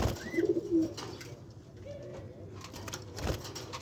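Small parrots, Fischer's lovebirds and budgerigars, chirp and coo in a home aviary, with a few close bursts early and scattered calls throughout at moderate level.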